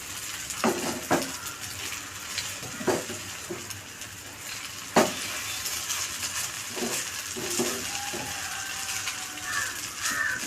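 Semiya biryani is stirred in a small, overfilled pan, with a spoon scraping and clinking against the metal in irregular strokes over a soft, continuous sizzle.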